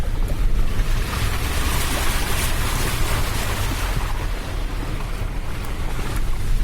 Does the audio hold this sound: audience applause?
no